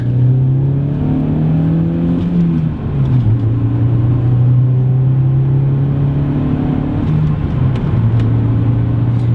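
Volkswagen Golf with a manual gearbox driving along, its engine droning steadily from inside the car with a pitch drop around a gear change, then holding a level hum.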